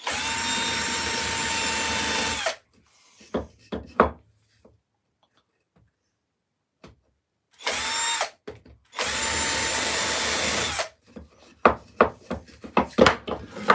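Wood on a hand-carved piece is sanded to remove splinters in several loud, steady abrasive bursts, separated by quiet gaps with scattered taps and knocks as the work is handled.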